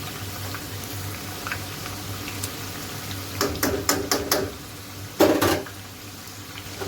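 Pakoras frying in hot oil bubble and sizzle steadily, with a few sharp metallic clinks of a utensil against the pan.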